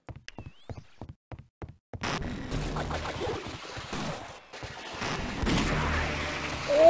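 Laser-sighted gun firing in Half-Life: Opposing Force, a run of sharp, evenly spaced single shots followed by a busier stretch of combat noise and impacts.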